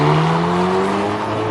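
A Hyundai i30 N with a 2.0-litre engine and DCT gearbox pulls away, its engine note droning and climbing steadily in pitch over a brief, loud stretch.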